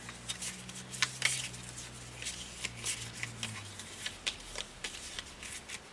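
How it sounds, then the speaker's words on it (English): A deck of quilt trading cards is shuffled repeatedly up close, crisp riffling patters in quick bursts with a faint hum beneath. "So these are the cards that I have left, and I'm gonna shuffle them up."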